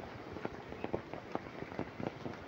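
Rain falls steadily outdoors, with a dense patter of drops striking surfaces, moderately loud and without voices.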